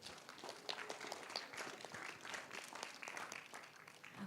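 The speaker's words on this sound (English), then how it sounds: "Can we have a round of applause," An audience applauds steadily after being asked for a round of applause at a school documentary presentation, a dense spread of hand claps at moderate distance with no voices standing out.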